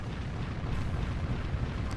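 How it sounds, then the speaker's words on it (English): Rapid-fire 20-inch naval cannon in the game Warship Gunner 2, a dense, continuous barrage of heavy booms blending into a loud, rumbling wall of explosions. "Just have some rapid fire 20-inch cannon fire"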